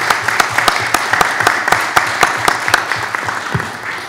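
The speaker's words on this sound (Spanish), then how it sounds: "Un aplauso, por favor." A small meeting room breaks into applause for a birthday greeting, a few people clapping in a steady, moderately loud, fairly sparse rhythm that thins toward the end, with no talking over it.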